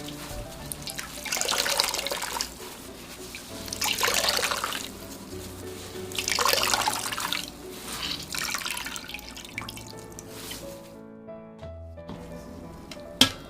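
Barley malt being kneaded and squeezed by hand in a bowl of water while making Korean sikhye, giving repeated bursts of sloshing, dripping liquid in a steady rhythm, close and moderately loud, with no talking.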